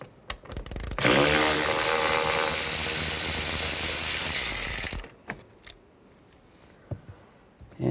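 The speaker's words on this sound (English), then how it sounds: "Use the same 10mm socket." A 10mm socket on a ratchet or power tool spins out a bolt on a Chevy Avalanche door (2007-13, during a driver side door handle replacement), giving one loud sustained mechanical whir of about four seconds, with faint clicks before and after.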